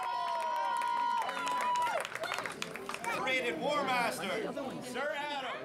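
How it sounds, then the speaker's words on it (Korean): Spectators, children among them, yelling and cheering at a medieval knights' duel show; one long sustained shout opens, followed by overlapping excited cries and whoops from a close, lively crowd. "무슨 일인지 아이들까지도 소리질러 응원을 하고 있다."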